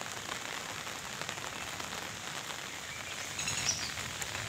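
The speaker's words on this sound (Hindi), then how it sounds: "आज बहुत बारिश हो रही है" Heavy rain falls steadily on a flooded town square, a dense and even hiss of drops on wet surfaces, a little louder near the end, with no voices.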